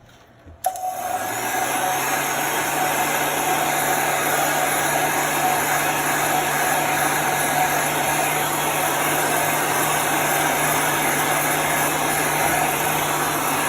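A steady, loud blower roar with a high whine starts after a brief click and runs unbroken, like a heat gun pushing hot air up close.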